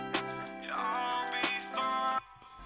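Vocal run through an old-telephone EQ effect in a mix, a thin, band-limited sung phrase with sharp consonant clicks, fairly quiet, ending abruptly after about two seconds.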